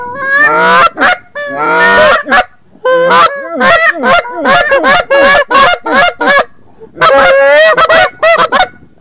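A goose call whistle blown for hunting gives loud, close honks in rapid bursts and rhythmic runs, sharp, cracking notes with brief pauses between series.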